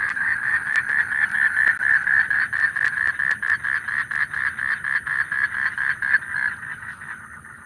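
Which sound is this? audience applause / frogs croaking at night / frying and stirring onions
frogs croaking at night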